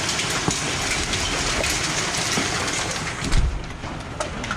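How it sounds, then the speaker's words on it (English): Unusually large hail pours down during a storm in a steady, dense hiss of countless impacts, with a few sharper knocks and a heavier thump near the end. "this is the biggest hail probably the biggest hail I've ever seen"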